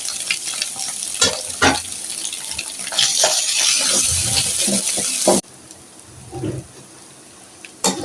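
Ginger garlic paste and tomato fry and get stirred in a pan for egg rice, with crackling sizzle and scraping stirs. The sizzle runs loud and steady, then drops off abruptly and carries on quieter with a few clatters.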